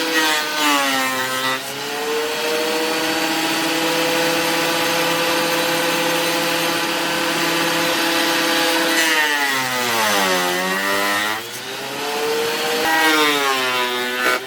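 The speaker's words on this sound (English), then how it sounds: "I'm going to put it through the thickness planer" Thickness planer cutting across the end grain of a piece of wood: a loud, close, sustained mechanical whine and rough cutting roar that holds steady, dips as the board feeds through, then swells again.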